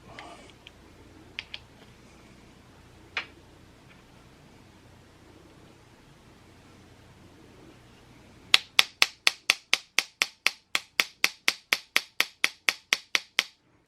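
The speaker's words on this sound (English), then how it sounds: "I don't see any problem hitting this with the hammer" A hammer strikes the hardware of a Rockshox Vivid R2C rear shock being fitted to a Sur Ron Light Bee: a few scattered light taps, then a rapid, even run of about twenty sharp metallic blows, close and loud.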